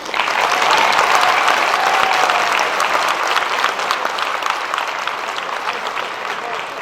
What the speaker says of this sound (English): Lamar Jackson deserves a round of applause for earning this high honor.